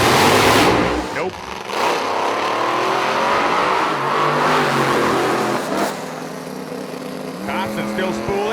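A Radial vs. the World drag race car at a racetrack revs and roars loudly as its turbo spools, with a commentator talking over the engine throughout.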